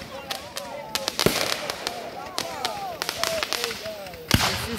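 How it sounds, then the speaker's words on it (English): Fireworks exploding at a backyard firework show, a rapid irregular series of sharp cracks and pops with whistling crackle, fairly close, with faint voices in the background. "Troy's Fireworks Show."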